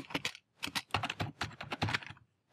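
Typing on a computer keyboard, a quick close-up run of crisp key clicks in short bursts with brief pauses between them, with no voice.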